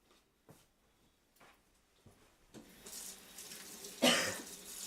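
Tap water running into a sink while a vegetarian roulade is being cooked, a soft steady flow that builds over the last couple of seconds, with a louder splash near the end and a few faint knocks before it.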